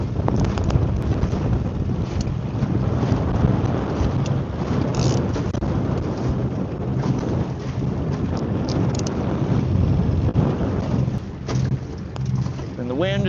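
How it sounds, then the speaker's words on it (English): Wind buffeting a fishing boat out on the water while pike fishing, a loud continuous gusty roar across the microphone with rumbling surges, and a voice talking under it. "And the wind is blowing us all over the damn place."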